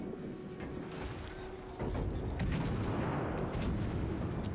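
Naval guns from a Dunkerque battleship fire in World of Warships, heavy booming blasts over a steady rumbling background that grows louder and busier partway through, with several distinct shots.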